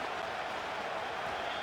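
Stadium crowd in Madden NFL 25, a brief, dense wash of cheering and applause at steady, moderate loudness.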